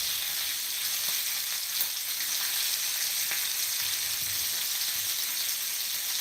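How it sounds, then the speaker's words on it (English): Bacon sizzles and crackles steadily in a frying pan, a dense, even hiss with scattered small pops, close by and uninterrupted, with no talking. "Bacon sizzling and smelling good."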